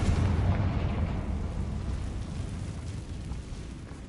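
A loud blasting-spell explosion from the Hogwarts Legacy video game bursts at the start with a heavy low rumble, then decays into a long crackling, rushing tail that fades gradually over several seconds.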